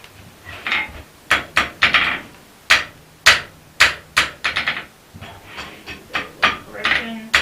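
A wider-peen hammer forges an arrow pattern into a cusp latch body. Sharp, close metallic strikes land in irregular bursts and single blows, with brief pauses between groups.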